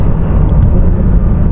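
Porsche 992 GT3 RS engine running without its exhaust fitted, a steady loud low rumble with road noise throughout and no talking.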